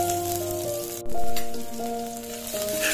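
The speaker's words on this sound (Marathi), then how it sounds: "त्याच्यात कांदो घालायचो बारीक केलेलो आणि परतून घ्यायचो गुलाबी रंगावर" Finely chopped onion sizzling and frying in a pan with garlic, a steady close crackle that swells briefly partway through, with no talking.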